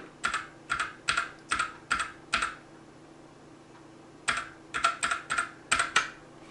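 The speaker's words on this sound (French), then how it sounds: "mon clavier fait du bruit mais il est vachement confortable" Computer keyboard typing in quick clustered bursts of clicky keystrokes, a pause of a couple of seconds, then another flurry, close by.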